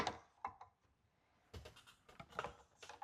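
A wrench tightens a plastic RV water filter housing, giving a few faint, close clicks and scrapes in short separate bursts.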